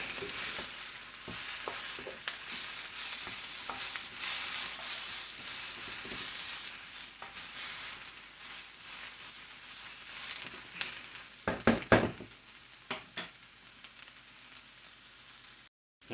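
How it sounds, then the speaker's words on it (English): Seasoned cabbage fries in a pan with a soft, continuous sizzle, broken by scraping stirs and a cluster of sharper clatters near the end. "Cooking it down some. You can see it's fried cabbage, y'all."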